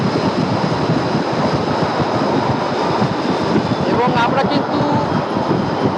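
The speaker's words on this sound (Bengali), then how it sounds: "যমুনা নদীর উপর দিয়ে পার হচ্ছে এই যে উদ্বোধনী বিশেষ ট্রেনটি" An inaugural special train rolls across the Jamuna rail bridge over the river with a loud, steady rumbling roar of wheels and wind, while someone talks over the noise.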